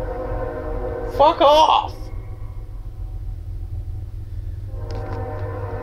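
A train passes, its rumble droning steadily throughout while a horn blares loudly for under a second near the start, and someone speaks briefly over the noise.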